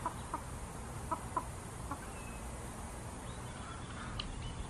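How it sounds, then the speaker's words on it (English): Faint, scattered clucks from a few chickens settling down to roost in a tree, heard at a distance over a quiet outdoor hiss. "Got our chickens over in this tree."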